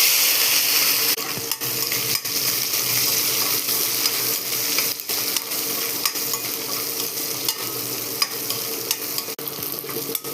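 Onion, garlic and curry leaves with cumin sauté in a hot pan for a bitter gourd curry, a loud steady sizzle running throughout with occasional soft stirring scrapes close by.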